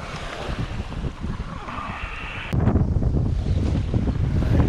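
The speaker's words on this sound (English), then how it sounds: "as the wind has continued to build" Strong wind buffeting a sailboat at sea off blustery New England, a loud continuous rush of gusts and microphone wind noise that grows heavier midway, with sea and rigging sounds mixed in and no talking.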